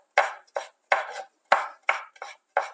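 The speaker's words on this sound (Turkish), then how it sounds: "minicik haşere dediğimiz şekilde biberlerimizi ufaltıyoruz" A knife chopping peppers finely on a board, seven crisp, close strikes in an uneven rhythm with short silences between.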